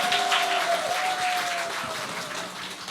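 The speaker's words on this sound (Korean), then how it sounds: "다시 한번 큰 박수 부탁드리겠습니다" Audience applause fills a church hall during a Christmas festival, a steady burst of many hands clapping that gradually thins out, with a faint sustained tone underneath.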